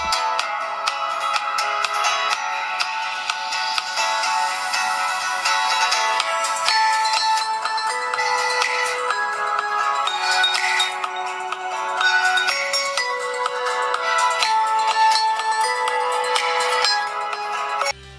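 Music-like tones with steady melodic lines play through the built-in speaker of a UMIDIGI A5 Pro budget smartphone, bright and thin with little low end, continuous for the whole stretch with no talking.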